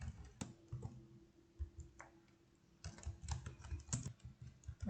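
A computer keyboard typing C code for a string demonstration, with soft irregular key clicks in short bursts separated by pauses, close and quiet with no talking.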